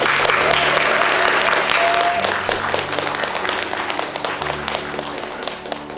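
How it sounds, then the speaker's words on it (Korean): Dense, loud applause from the audience at a community oral-history reading event honouring three elders, sustained throughout and easing slightly toward the end, with a faint hum underneath. "오늘 귀한 시간 함께 해주신 공경식 어르신, 이희득 어르신, 조재식 어르신께 마지막으로 큰 박수 한번 부탁드립니다"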